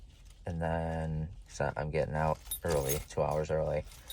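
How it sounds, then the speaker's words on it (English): Keys jangle in a hand with light metallic clinking, faint beneath someone talking steadily close by. "I'm playing with my keys in case you're wondering what that noise is."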